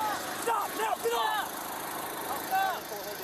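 A riding lawn mower engine runs steadily in the background while people shout loudly over it.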